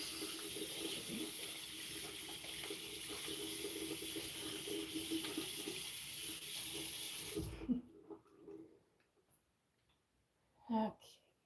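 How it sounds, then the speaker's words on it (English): A plastic bleach container rinsed under a running kitchen tap, a steady hissing water stream for several seconds that stops abruptly, followed by quiet handling noises and a brief voice. "Just gotta rinse this before I put it back in this kitchen"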